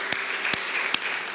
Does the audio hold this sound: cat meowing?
no